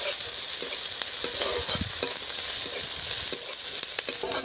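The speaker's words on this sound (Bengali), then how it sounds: "দেখুন ওপর থেকে পেঁয়াজ দিয়ে দিচ্ছি" Onions added on top of cubed potatoes fry in a hot pan, a loud, steady close-up sizzle with occasional scraping stirs and small crackles throughout.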